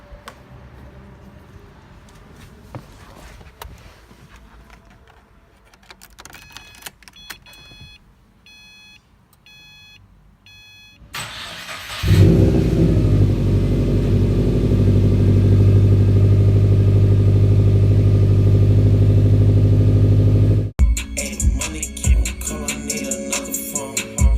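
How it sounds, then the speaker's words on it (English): A Subaru WRX with a stanced setup gives a few electronic chimes and a quiet pause, then the engine cranks and catches into a loud, steady idle rumble that runs for several seconds before cutting off abruptly. "let's get the car started"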